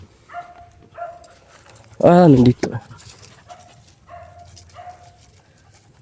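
A single dog bark with a whiny, yelping edge stands out loudly for a moment between stretches of quieter talking nearby.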